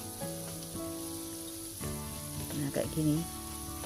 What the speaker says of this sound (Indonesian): kita masukkan langsung ke dalam minyak panas. Nah, langsung kita goreng.